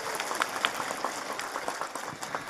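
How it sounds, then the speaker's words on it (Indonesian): Audience applause at a Friday morning religious study gathering in a village, a moderate crowd clapping in a loose, continuous patter at mid distance without talk. "Saya minta tepuk tangan dulu dong."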